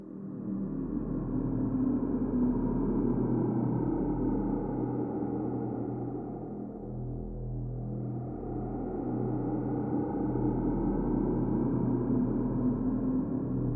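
An eerie sci-fi synth atmosphere built in the Serum synthesizer plays as a dark, continuous drone with a low rumble. Its tone thins and dips near the middle, then swells back, steady and alone.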